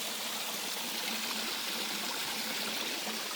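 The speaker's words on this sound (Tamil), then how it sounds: "பாருங்கள் தண்ணி அப்படி போகுதுன்னு" Rainwater streams down a mountain trail on a trek, a steady, close rushing gurgle with constant hiss and no pauses, alone without voices.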